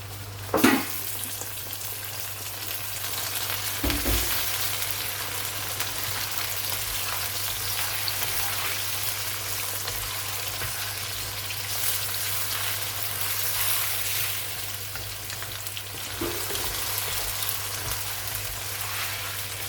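Chunks of chicken sizzle and fry in a pot with browned onions, a steady close crackle and hiss with a low hum underneath and a few brief stirring clatters.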